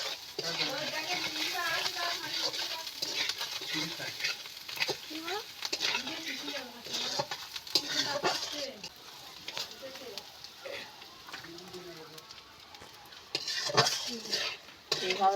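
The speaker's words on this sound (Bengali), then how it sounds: "এইভাবে ভালো করে পেঁয়াজটা ভেজে নেব মশলা দিয়ে।" Onions frying with salt, turmeric and chilli powder in a pan while being stirred for a fish and ridge gourd curry, with steady sizzling and repeated scraping and clinking of the utensil throughout, and a voice talking over it.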